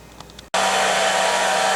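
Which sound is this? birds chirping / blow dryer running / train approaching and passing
blow dryer running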